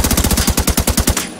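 Weapon gunfire in a video game: a rapid automatic burst of about a dozen loud, evenly spaced shots, then it stops abruptly.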